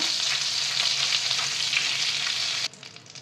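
Butter melting in a pan as cumin seeds go in, a bright steady sizzle that drops off sharply near the end, leaving quieter crackling, with no one speaking.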